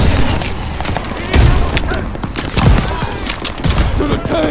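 Dense gunfire in a Vanguard campaign video game: sustained automatic bursts and scattered shots with a few heavier booming impacts, loud and continuous throughout.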